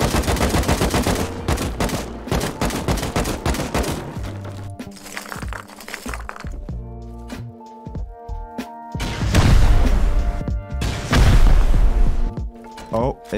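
HE grenades and gunfire on a base in the game Rust, sharp bursts of shots followed by heavy booming blasts, loud and close, with a voice talking over parts of it.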